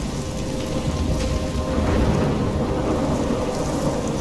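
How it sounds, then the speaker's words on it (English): Thunderstorm with heavy rain in the video game Life Is Strange: a steady, dense roar of rain with low rumbling thunder rolling underneath, loud and continuous throughout with no voices. "I'm trapped in a storm?"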